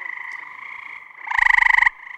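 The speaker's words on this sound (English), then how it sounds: "Gray tree frog is one of my favorite species." A gray tree frog calls close by, a loud rapid trill of pulsed notes that swells into one strong burst near the end.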